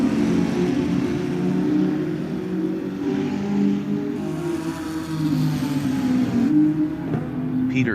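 McLaren GT4 race car engine at a GT4 Challenge circuit race, a steady loud drone with slight pitch shifts and a brief rise near the end, heard continuously without speech.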